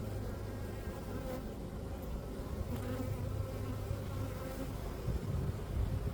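Honey bees hum and buzz inside an open beehive during an early spring inspection in Melbourne. A close, continuous swarming drone holds steady throughout, with faint handling noises and no talking.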